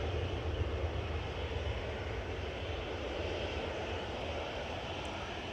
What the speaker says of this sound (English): EasyJet off to Copenhagen, A320-200,